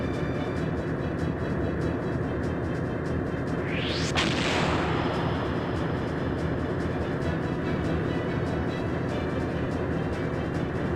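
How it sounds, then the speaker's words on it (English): The main cannon of an airship firing in a Skies of Arcadia battle, one rising whoosh swelling into a single blast over a constant, dense rumbling game soundtrack. "And with Drachma, we're going to shoot the main cannon."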